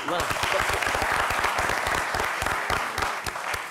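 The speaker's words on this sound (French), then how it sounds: "on peut applaudir, bravo" A studio audience at a charade game show applauds steadily, many hands clapping in a dense, even burst with some talking mixed in underneath.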